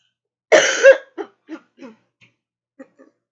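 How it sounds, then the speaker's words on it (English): A coughing fit from allergies: one sharp, close cough is followed by a string of smaller, quieter coughs and throat sounds that trail off into silence. "I'm going to cough really fast because I've been getting a little bit sick because of my allergies"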